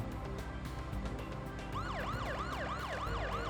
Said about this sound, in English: Or just turn on the lights and sirens.